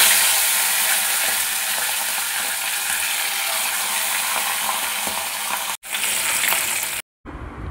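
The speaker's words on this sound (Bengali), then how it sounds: "এবারে মাছগুলো ভেজে নেব। প্রথমে মাথাগুলো ভাজবো।" Rohu fish heads fry in well-heated oil in a kadai, giving a loud, steady, dense sizzle. The sound cuts out briefly near the end.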